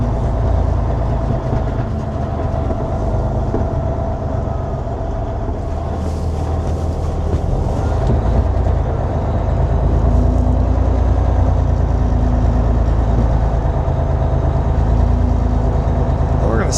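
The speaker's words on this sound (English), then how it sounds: "Go ahead and whip around this cul-de-sac, kind of show you the turning radius of the truck." An M916A3 Freightliner 6x6 military semi truck drives and turns around a cul-de-sac, its heavy diesel engine giving a loud, continuous low rumble from inside the cab, with brief hissing bursts.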